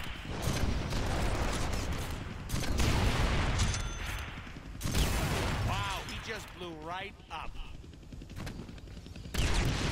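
Gunfire in the Deadpool video game, with bursts of shots and rapid fire mixed with game effects and a voice, loud and dense for most of the stretch.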